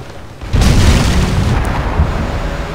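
Unit shooting attack in Civilization V: A Brave New World, a sudden loud boom followed by a sustained rumbling, explosive roar that lingers for a couple of seconds, with no talk.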